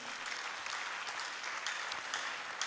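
A church congregation claps together in steady, dense applause at worship, fairly close and even throughout, with no voices breaking through.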